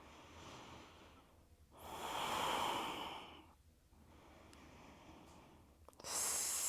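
Slow, steady breathing during an Ashtanga yoga session: a soft, close airy inhale swelling and fading, then quieter breaths and a sharper breath at the end, with no talk.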